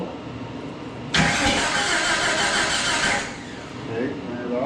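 A vintage Jeep engine is cranked and briefly catches in a rough, loud burst lasting about two seconds before dying back down, heard up close with a garage-like background.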